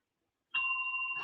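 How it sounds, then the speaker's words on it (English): A small bell is tapped once, giving a clear ringing ding with two sustained tones that hold steadily after a quiet start, with no talk over it. "I tapped the bell."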